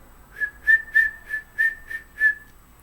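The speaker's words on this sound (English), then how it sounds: "Can you try whistling?" A person whistles a short series of about seven clear, bright notes in a bouncy rhythm, near and fairly loud, with no talking.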